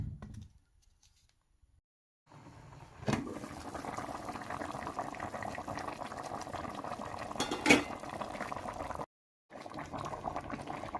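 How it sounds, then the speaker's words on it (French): A vegetable and chicken sauce for couscous simmers in a pot, a soft steady bubbling hiss running on after a quiet start, with a single clink partway through and a brief cut near the end. "je vais juste laisser la sauce cuire"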